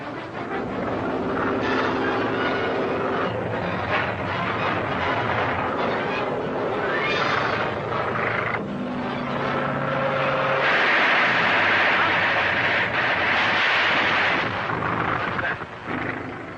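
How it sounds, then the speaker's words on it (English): Continuous loud rattle of a machine gun firing from an aircraft in a 1941 film serial, blended with droning engine noise in a dense, sustained wash with no talking. "Machine gun."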